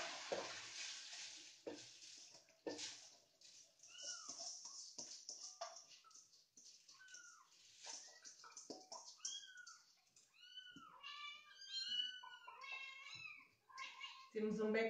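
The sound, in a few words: cats meowing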